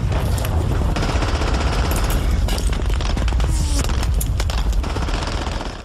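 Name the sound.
machine gun fire in Saving Private Ryan film scene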